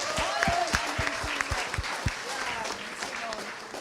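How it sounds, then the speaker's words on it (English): Applause from the audience at an evening public meeting welcoming MP Flo to speak, a steady wash of clapping with some talk and voices over it. "MP Flo, give her a round of applause."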